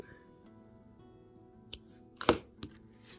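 Scissors snipping yarn from a crocheted star: a few crisp, close clicks and one louder cut in a quiet room, followed by a softer snip.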